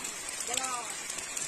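Heavy rain falling in Uttarakhand, a steady dense patter of drops on surfaces, with a voice faintly present beneath it.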